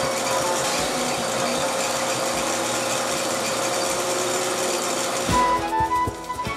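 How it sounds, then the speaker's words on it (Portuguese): A sewing machine runs steadily at speed, a dense mechanical whir and rattle held for several seconds, then cutting off into a few scattered knocks and clicks at the end. "A máquina de costura não para."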